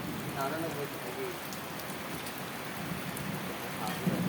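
Steady rain falls in a continuous, even hiss close by, holding the same level throughout with no clear breaks.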